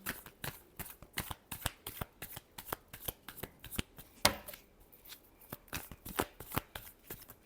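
Tarot cards are shuffled by hand in quick, close, crisp riffling bursts, repeated in a steady rhythm with brief pauses between them.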